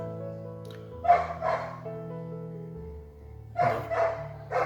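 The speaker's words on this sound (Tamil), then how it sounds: "இந்த பக்கத்து வீட்டில் உள்ள நாய் கத்திக்கிட்டே இருக்குது" A neighbour's dog barks in the evening, two pairs of quick barks at medium distance separated by a pause, over a low steady hum, with no talk.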